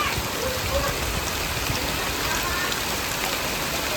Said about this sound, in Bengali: তো এবার লাগছে কেমন বৃষ্টিটা দেখতে, পুরো বৃষ্টি হচ্ছে একদম।